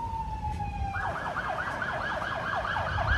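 An ambulance siren wails on a street, a steady tone that shifts into a fast rhythmic yelp with repeated sweeps over traffic noise.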